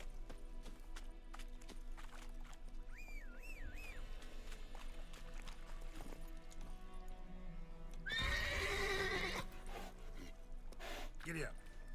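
A horse in a pirate video game whinnies, with a short galloping clip-clop run and a louder burst of whinnying near the end, all over a low game soundtrack while someone speaks.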